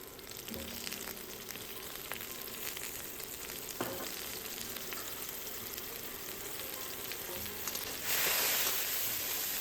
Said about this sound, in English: Stir fry until their fragrance fills the air.